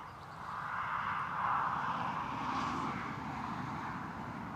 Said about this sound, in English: Eastern Airways Embraer 190 long range. Inbound from Amsterdam.